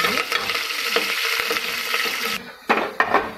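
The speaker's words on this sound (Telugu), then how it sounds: "ఇప్పుడు ఆనియన్స్, కరేపాకు వేసుకొని బాగా వేడనివ్వాలి." Onions and curry leaves go into hot oil in a pan for a cabbage masala curry, giving a steady close sizzle with scraping stirs, then a brief dip and a few sharp clatters of a utensil against the pan.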